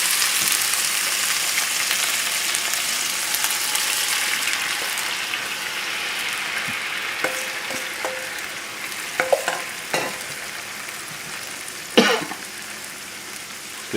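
Teriyaki marinade hits a hot pan of browned chicken legs and thighs, giving a strong, continuous sizzle that slowly settles, with a few faint clinks and scrapes near the end.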